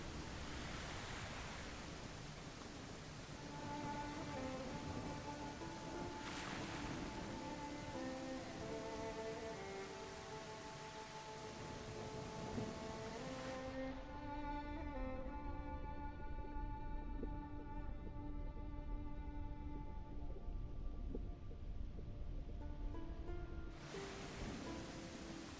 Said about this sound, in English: This game does have some pretty good vibes when it's raining and stuff.